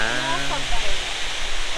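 Steady broadband rush of Almécegas waterfall in the Cerrado, loud and continuous, with a voice briefly speaking over it at the start.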